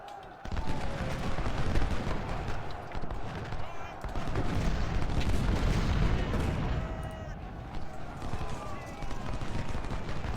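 Massed musket volleys from a Civil War infantry battle in the strategy game Ultimate General, dense crackling gunfire rolling continuously under a steady din, with a sustained tone running beneath the clatter.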